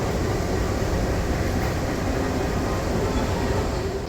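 The Bima passenger train coming into Kertosono station makes a loud, unbroken low rumble of wheels on track, heard from within the carriage as a dense, even roar over its whole length.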